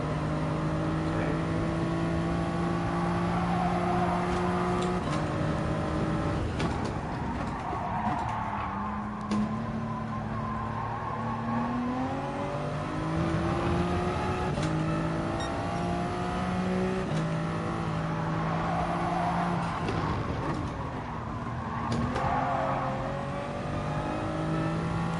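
Race cars in a racing video game roar and rev continuously, engine pitch climbing and dropping through gear changes as cars run wide and battle for position, loud and unbroken with no talk.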